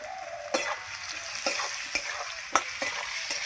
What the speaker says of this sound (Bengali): এই যে পটলটাও দিয়ে দেবো আলুর সঙ্গে ভালো করে ভাজা হয়ে যাবে